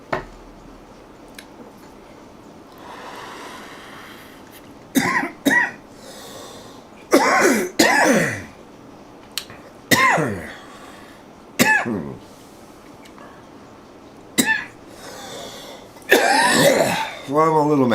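A bong hit followed by a run of harsh, separate coughs and throat clearing, close and loud, spaced out over several seconds with quiet gaps and some soft bubbling between them.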